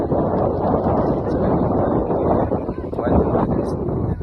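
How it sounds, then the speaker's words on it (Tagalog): Steady wind buffeting a microphone outdoors at Liberty State Park, a continuous low rumbling roar with slight gusts and no pauses. "windy, full wind"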